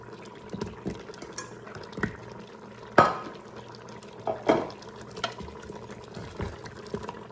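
Carrots and taro roots drop into a cooking pot of simmering liquid, giving a few soft splashes and thuds at irregular moments over a low bubbling background, close and moderately quiet.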